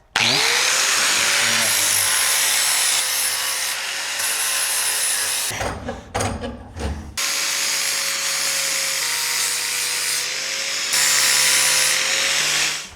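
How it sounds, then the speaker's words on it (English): A Makita angle grinder grinds metal on a classic VW Beetle with a loud, sustained whine that breaks for a moment of uneven contact midway, then resumes steadily. "Take the magical Makita grinder."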